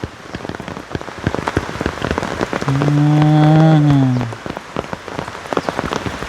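Steady rain falling on a surface at a half-built hut, close and continuous with dense patter throughout. A single low, drawn-out moo-like tone rises briefly in the middle.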